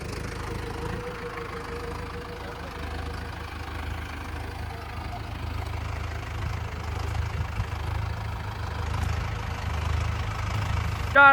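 A tractor engine idles steadily in a farm field with a low continuous rumble and slight knocking, fairly close, while people talk nearby.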